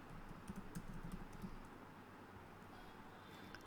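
Code being typed on a computer keyboard, a short burst of quiet, quick key clicks early on before fading into faint room hush.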